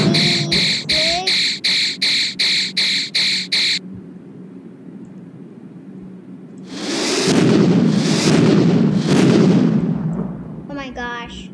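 Gunfire in the Roblox game Escape Mr Funny Dummy's Toy Shop: a rapid, evenly spaced burst of about nine loud shots, then a pause and a longer, rumbling blast-like sound, ending in a short chirpy effect.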